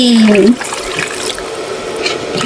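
Hot water pours and splashes into a pot while duck meat is being cooked, a steady close liquid rush that follows a brief loud voice at the start.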